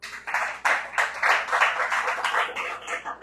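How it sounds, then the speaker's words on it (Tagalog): Audience clapping in a church session, a short burst of scattered, uneven handclaps from a modest crowd, rising and fading over a few seconds. "Palakpak."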